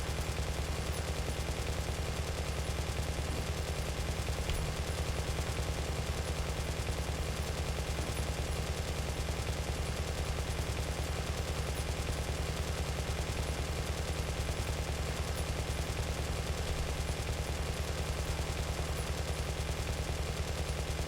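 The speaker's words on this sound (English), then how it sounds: "See how long these 4 machine guns last." Four aircraft machine guns fire in sustained bursts in War Thunder, a dense continuous rattling roar that stays loud and steady throughout with no pauses and no talk.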